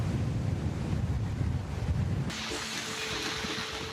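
Storm-driven sea waves up to 2.5 metres surge onto Kuta beach, Bali, during a high tide in extreme weather: a loud, continuous roar of surf and wind that suddenly thins into a steadier wash.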